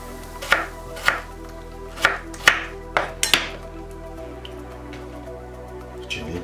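A knife chops tomatoes into small squares on a board for a Bulgarian shopska salad, about seven crisp close cuts at an uneven steady rhythm with a low hum beneath.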